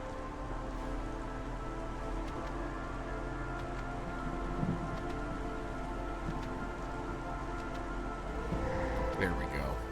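Steady rain falls with faint rumbles of thunder in the video game Against the Storm, a continuous patter that runs throughout under a soft background drone.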